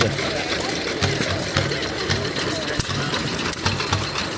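A Fairbanks Morse 2 horsepower Z antique engine runs at a county fair, giving a steady low putt-putt rhythm with regular beats about every half second, moderately close under continuous crowd noise and voices.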